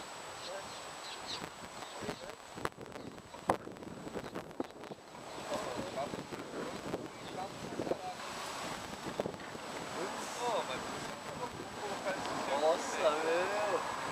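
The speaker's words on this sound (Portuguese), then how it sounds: "O vento tá muito forte." Strong wind buffeting the microphone in rough gusts, with water sloshing and people talking over the roar.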